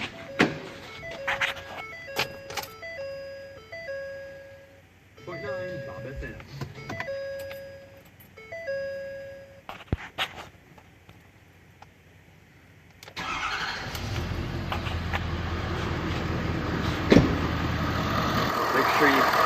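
A Ford truck's 6.7 liter Powerstroke diesel cranks and fires after a stretch of talk and clicking cabin chimes, then settles into a loud, steady, rumbling idle that runs to the end.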